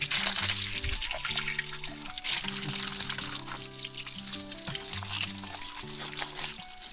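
Muddy water from a deep well tap gushes and splashes in a steady, loud stream, while faint background sounds run underneath.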